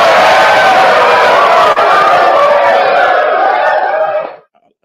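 A large studio or event crowd cheers and roars loudly and continuously, a dense wall of voices that holds steady for about four seconds before cutting off abruptly into silence.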